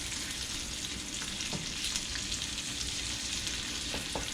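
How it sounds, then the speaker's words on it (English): A breakfast skillet hash frying in a cast iron pan while being stirred, a continuous close sizzle with occasional scraping knocks from the utensil, no talking. "Gonna mix it around a bit."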